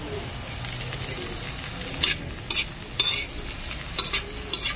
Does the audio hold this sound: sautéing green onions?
yes